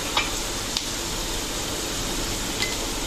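Bay leaves, cinnamon and asafoetida fry in hot oil for a fish pickle, giving a steady, even sizzle throughout with a few faint pops, close and alone without talk.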